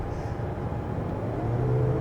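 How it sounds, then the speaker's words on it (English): A Mazda CX-90 plug-in hybrid in sport mode gives a low, steady exhaust rumble from inside the cabin while driving, swelling slightly louder toward the end with no talk over it. "it does have a nice little exhaust sound to it"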